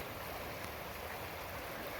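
A winter creek at a gold prospecting spot in Indiana, its water flowing in a constant rushing wash, close and even throughout, with no talk.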